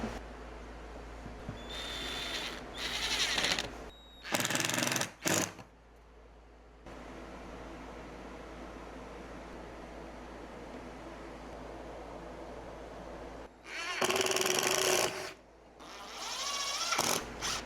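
A power drill whirs in several short, loud bursts into wood, drilling down into a nightstand base, stopping and starting, with a quieter steady background hum between the runs.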